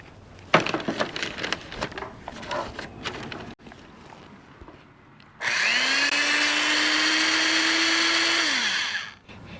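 Handling and rustling noises, then an old metal-body electric drill whirs up to a steady high whine for about three seconds before spinning down.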